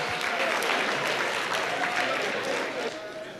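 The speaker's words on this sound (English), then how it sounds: "All right, give her a round of applause." A round of audience applause at a student demonstration event, dense steady clapping filling the clip at a fairly close, even level with a few cheers and voices mixed in.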